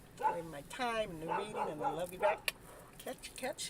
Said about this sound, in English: And that's my dog agreeing to the story.